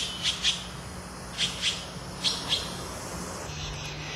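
Taiwan blue magpie calling in forest, three pairs of sharp, high double calls spaced about a second apart, moderately near over a low steady background hum.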